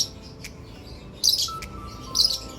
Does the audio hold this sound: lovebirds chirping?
yes